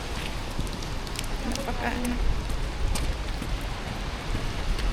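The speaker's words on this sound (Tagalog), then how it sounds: "Sobrang ulan ngayon." Heavy rain pours during a stormy trip to an island, a loud, dense, continuous hiss and patter close around, with a voice briefly audible beneath it.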